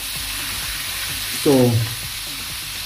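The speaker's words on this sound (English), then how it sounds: "we give that a little stir and we let it saute for about a minute or two" Butter sautéing in a pot for a coconut fish, lobster and vegetable pot pie, a continuous hissing sizzle with a short voice cutting in briefly midway.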